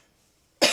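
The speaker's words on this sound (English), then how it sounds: "Hold on, coughing warning." A single harsh, loud cough bursting out suddenly after near silence, close to the microphone.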